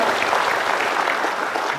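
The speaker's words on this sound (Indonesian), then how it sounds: "tepuk tangan dulu dong buat Denpasar" Studio audience applauding a Denpasar team at a Bali quiz semi-final, a dense, even wash of clapping that holds steady from start to finish.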